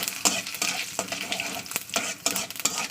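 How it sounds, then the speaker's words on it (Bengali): Dry red chillies and whole cumin seeds frying in leftover fish-frying oil, a dense, continuous crackling sizzle close by, with repeated scraping strokes of a spatula stirring through the pan and no voice. "দিয়ে দিচ্ছি দুটো শুকনো লঙ্কা আর একটু গোটা কাঁচা জিরে দিয়ে দিলাম"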